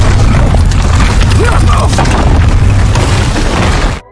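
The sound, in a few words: loud explosion in the movie Mira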